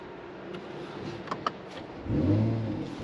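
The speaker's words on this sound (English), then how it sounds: "That is the sound I wanted to hear when I start the car." A Mercedes-Benz SUV engine turns over and catches, settling into a steady low rumble after a couple of faint clicks.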